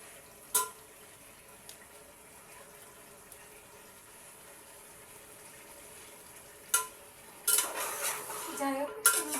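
Food is sautéed in a pot over a low background hiss, with a few isolated clanks of a utensil on metal and then a burst of vigorous stirring and scraping near the end.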